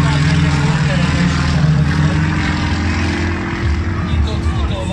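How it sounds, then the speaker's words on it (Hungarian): A stunt plane at the Szeged airshow, flown by world champion pilot Gyula Vári, makes a low pass with its landing gear down, a loud steady propeller drone droning throughout, with a commentator talking over it. "Itt ott futóval egy áthúzás."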